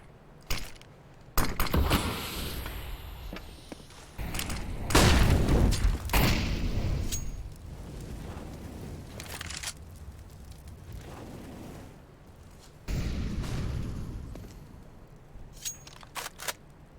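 Grenades going off in a tactical shooter video game: a few heavy booming blasts and sharp bangs at irregular intervals, loud and close, with quieter game noise between.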